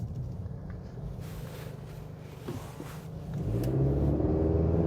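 Acura Integra with a CVT accelerating from inside the cabin, a low engine rumble and whir that builds into a steady, louder drone as the throttle is pressed, with no talking.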